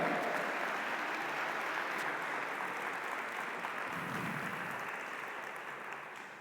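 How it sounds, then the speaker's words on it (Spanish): Applause from a church congregation after the pastor's call to praise the Lord, a dense, steady wash of many hands clapping that carries on alone for several seconds and slowly fades toward the end. "Dele un fuerte aplauso al Señor"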